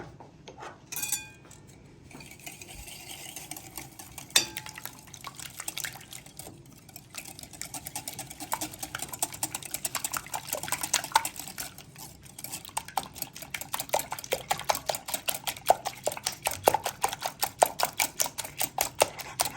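Eggs and sugar for an American-style pumpkin cake being mixed in a bowl, a utensil tapping and clattering against the sides in a quickening, steady rhythm that grows louder toward the end, close by.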